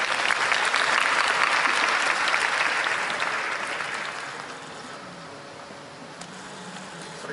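Crowd at the Japan Race Queen Awards stage event at Tokyo Auto Salon 2023 applauding a presenter, a dense burst of clapping that gradually tapers off into quieter room noise.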